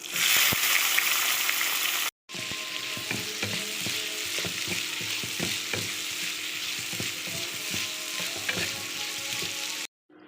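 Steady crackling sizzle of cauliflower frying in hot oil, with occasional utensil scrapes, loud and close, briefly cutting out near the start and end.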